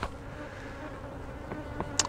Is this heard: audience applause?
no